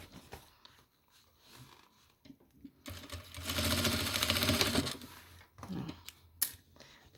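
Sewing machine stitching a toiletry bag, a fast rattling run of stitches for about two seconds in the middle, with quieter handling clicks and taps before and after.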